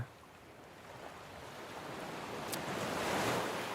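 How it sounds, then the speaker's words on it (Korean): Ocean waves wash onto a shore in a steady, rushing surge that swells gradually louder, with a soft wind-like hiss and no other voices. "파도 소리 듣고 있으니까 그냥 잠이 막 올 것 같네"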